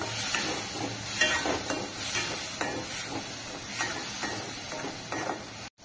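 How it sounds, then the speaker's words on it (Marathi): Tomato gravy for a dhaba-style cauliflower bhaji is sautéed in oil. A steady sizzle sits under rhythmic spatula scraping and clanking against the pan, close by, and ends abruptly. No one talks. "आता ही ग्रेव्ही आपल्याला 5 मिनिटांसाठी परतून घ्यायची आहे"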